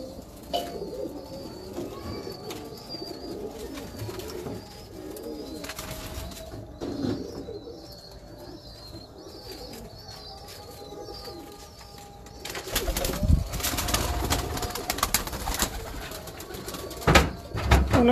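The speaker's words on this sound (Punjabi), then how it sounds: "ਕੋਈ ਲਓ ਜੀ ਕਬੂਤਰ ਦੇਖੋ ਭਾਈ ਜੀ" Breeder pigeons coming out at feeding time coo in repeated soft, low calls nearby, with occasional chirps, and louder bursts of rustling and wing flapping in the later part.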